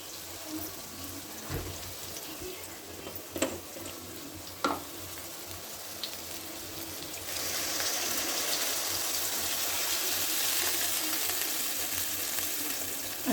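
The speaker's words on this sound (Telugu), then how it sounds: "వాటర్ యాడ్ చేసుకుందాం." Water pours into a pot of seasoned vegetables for sambar, starting after a few utensil knocks and turning into a steady, moderately loud rushing hiss that continues to the end.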